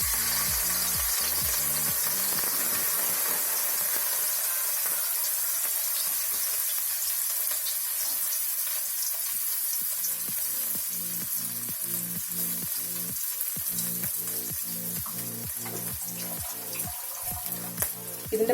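Crushed ginger and garlic fry in a pan for Kerala-style vegetable vermicelli upma, giving a steady close sizzle broken by regular clacking strokes of a spoon stirring against the pan, with no talking.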